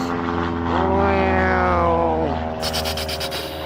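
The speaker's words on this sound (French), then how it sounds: "L'avion est super basse." A low-flying propeller airplane passes overhead, with a steady engine drone and a gliding pitch that rises and falls as it goes by, heard near and loud in a calm, hot outdoor setting.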